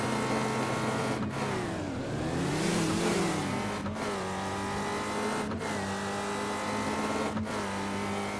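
A race car in the Nolimit 2 video game revs hard through its gears, the engine pitch climbing then dropping sharply at each of several quick shifts, loud and continuous with no talk.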